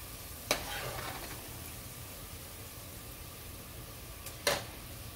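Onion frying in hot oil for a prawn biryani, a steady low sizzle with faint stirring and two sharp scraping clatters, no voices.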